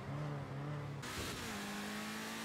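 A Pegasi Infernus sports car engine in a video game holds a steady, rich drone, with a tonal shift partway through as if changing gear, continuous and fairly even throughout.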